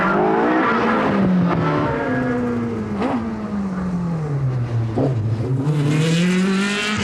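A Pilbeam race car, the Woodside Haulage car, runs hard at the Stormont event of the 2000 Belfast City Motorsport Festival, its loud engine revving up and down through gear changes close by, with brief tyre noise and no talk.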